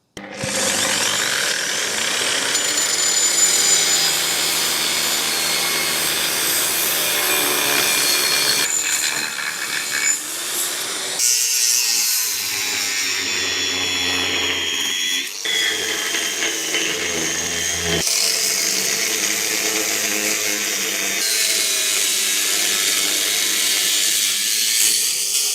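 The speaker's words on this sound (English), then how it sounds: "I think I have to cut these with a grinder." An angle grinder cuts through metal pieces in long, loud, continuous passes. Its steady harsh whine pauses briefly between cuts, with no talking over it.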